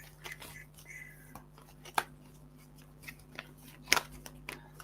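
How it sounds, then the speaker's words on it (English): Tarot cards shuffled by hand, quiet papery riffles and flicks in scattered bursts, with a few sharper snaps standing out against a low background hum. "I'm just gonna shuffle the cards."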